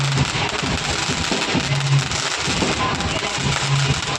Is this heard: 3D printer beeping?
no